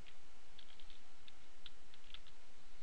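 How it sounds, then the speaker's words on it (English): Keys on a computer keyboard are tapped in sparse, irregular clicks as an IP address is entered into storage server software, set against a steady electronic hum. "start typing IP address of"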